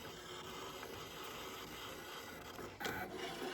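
A Brother ScanNCut electronic craft cutting machine runs with a quiet, steady whirring and faint scraping, close by and uninterrupted, with a slight shift near the end.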